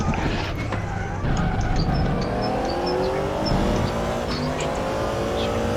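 GT3 race cars at Monza in RaceRoo roar continuously, with engines revving and shifting through rising pitch sweeps, loud and unbroken across the whole stretch with other cars close by.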